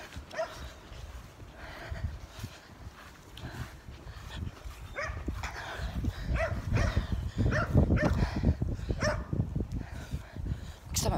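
A dog barks and whimpers close by in a string of uneven yelps and whines that grow louder and busier toward the end.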